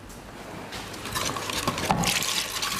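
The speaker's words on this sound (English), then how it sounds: "I'm going to add a little bit more water to my sauce," Water poured into a sauce in a cooking pan, a rushing, splashing fill that grows louder and fuller over a few seconds, close by with no talking.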